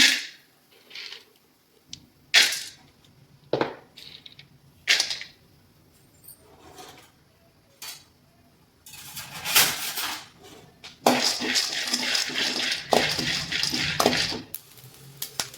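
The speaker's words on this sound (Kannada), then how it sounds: "ಇಲ್ಲಿ ಫಸ್ಟು ಒಂದು ಸ್ವಲ್ಪ ಕಡಲೆ ಬೀಜನ ನೀಟಾಗಿ ಹುರ್ಕೋಬೇಕು." Peanuts dry-roasting in a pan give scattered close clicks and scrapes at first, then a dense, steady rattling clatter for the last several seconds, with no talking.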